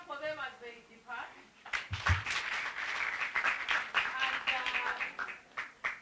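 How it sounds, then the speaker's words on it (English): Audience applause and clapping at a commemoration event for women human rights defenders, rising after a brief pause and continuing steadily with voices and music mixed in as a youth group leaves the stage. "Let's clap for them as they depart."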